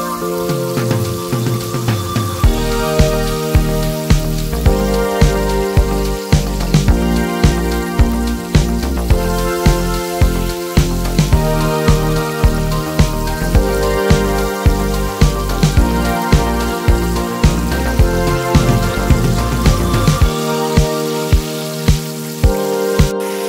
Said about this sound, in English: Fry up to 4 pieces per batch on medium heat for up to 12 minutes.